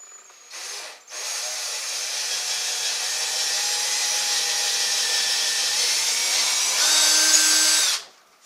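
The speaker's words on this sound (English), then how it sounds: "and I can drill it." An electric drill whirs steadily for several seconds into a hickory vanity after a brief first burst, pitch rising slightly near the end before it stops.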